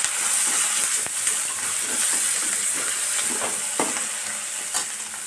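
Chapati chivda with turmeric and coriander stirred in a hot pan, a continuous sizzle with steady scraping and clinking of the spoon, close and moderate in level, no voices.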